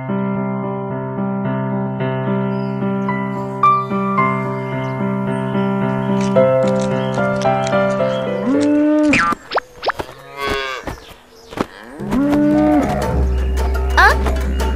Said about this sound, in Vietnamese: Ơ, anh bò rừng, anh ấy bị làm sao mà lồng lộn thế kia?